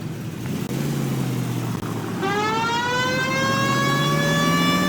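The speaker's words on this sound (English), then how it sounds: "Why don't you use the siren?" A police car siren in the L.A. Noire video game wails in, rising in pitch as it starts and settling into a steady, loud tone over the rumble of a car engine, with no one speaking.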